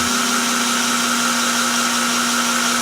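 A weak, undercharged cordless drill bores holes into a car bumper during a Mugen bumper install on an RSX, a steady, strained whine with a constant hum that holds without a break for about three seconds.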